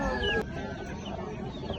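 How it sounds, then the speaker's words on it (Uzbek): Chickens clucking at a poultry and bird market in Margilan, Uzbekistan, a close burst of loud clucks followed by softer continuous clucking amid market bustle. "Mana bu yoqda ham xasaki tovuqlarimiz chiqdi."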